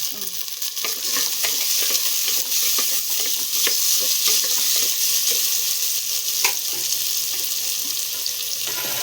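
Tomato pieces and tamarind fry loudly in hot oil, a dense steady sizzle with scattered crackles and pops running throughout, close and continuous.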